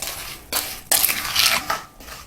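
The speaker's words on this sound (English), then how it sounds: "a good stir" A spoon scrapes and churns through an apple mixture in a pot, making a few rough, bursting stirring strokes with metallic scraping, close and fairly loud with no talk.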